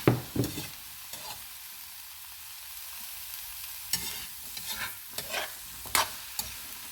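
Mixed vegetables including squash, chayote and eggplant are stirred in a hot pan, a soft sizzle under sharp scraping stir strokes that come in bursts at the start and again in the second half.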